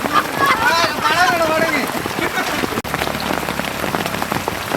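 Heavy rain patters steadily on a surface nearby, a constant dense hiss, while a person talks over it at the start.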